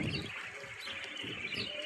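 Birds chirping along a path on the way to a mosque on a Friday, light twittering calls mixed with faint outdoor background noise.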